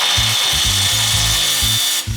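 A power drill whines steadily while boring into metal sections for an outdoor table top, its high motor pitch carrying a rhythmic, pulsing grind and stopping abruptly near the end.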